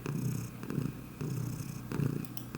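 A pet cat purrs softly in a home office, the steady rumbling cycling in slow, even breaths, close but quiet, with no voices.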